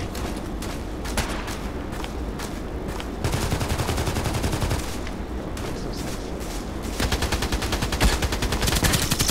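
Gunfire in the video game Contract Wars, dense automatic bursts and overlapping shots sounding almost continuously, with several sharper louder volleys.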